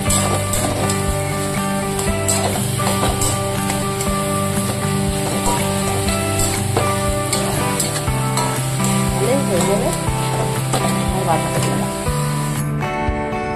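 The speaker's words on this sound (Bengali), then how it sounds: "এবার নাড়াচাড়া করে একটু ভেজে দেবো, তারপরে নামিয়ে দেবো।" Cabbage stir-fried in a pan with cumin powder, a loud continuous sizzle and spatter with stirring scrapes, close up, while background music plays throughout.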